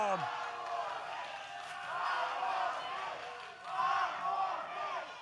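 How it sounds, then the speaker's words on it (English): A wrestling arena crowd chants in rhythmic, swelling waves after a match is ruled a draw, many voices rising and falling together, with a commentator talking over the noise. "Well, crowd chanting 5 more minutes."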